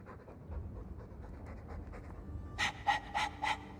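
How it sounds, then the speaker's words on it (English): A dog in the video game Dragon Age 2 pants in quick, breathy bursts near the end, following a stretch of low ambient hum and soft background noise. "All that noisy dog breath"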